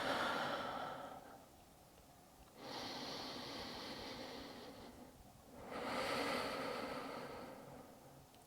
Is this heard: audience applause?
no